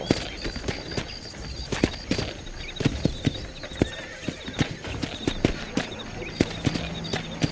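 Horse hooves clip-clopping in Red Dead Redemption 2, a steady run of close, crisp hoofbeats with occasional whinnies over outdoor ambience and birdsong.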